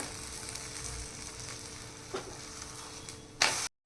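Phurphure, a Marathi breakfast and tiffin snack, sizzles steadily as it fries in oil or ghee in a pan. A sharper burst of crackling comes near the end before the sound cuts off.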